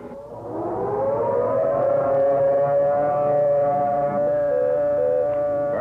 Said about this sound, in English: We think the siren should be activated at the present time.